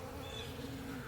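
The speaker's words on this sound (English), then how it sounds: "Wasp?" A wasp buzzes near a beehive with a faint, continuous insect drone that wavers slightly in pitch over a quiet outdoor background.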